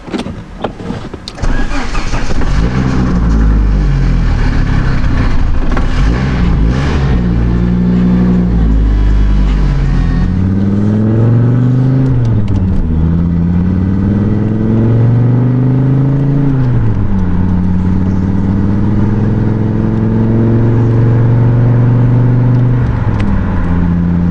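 An Audi Quattro starts up and drives through town, its engine note rising and falling through repeated gear changes, loud and close from inside the car.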